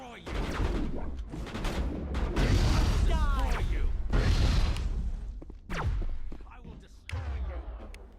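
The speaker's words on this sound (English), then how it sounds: "I don't use my grenades very much. Let's try them out." Grenades go off during Mass Effect combat as a run of booming blasts, thuds and whooshing gunfire. The battle noise is loud and dense, and game voices talk over it.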